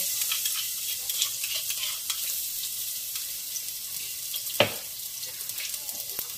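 Steady sizzling of garlic frying in hot oil for sinigang na bangus sa miso, with a brief clink of a utensil stirring the pan midway.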